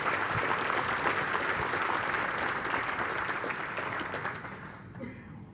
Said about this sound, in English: So please give Richard a huge round of applause